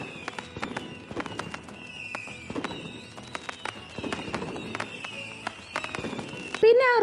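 Leftover firecrackers burst after the Thrissur Pooram festival in a rapid, irregular string of sharp cracks and pops, some near and some farther off, over a low murmur of background activity.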